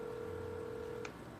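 Telephone line with a steady dial tone that cuts off, followed by a single short dialing beep, faint and close with no voices.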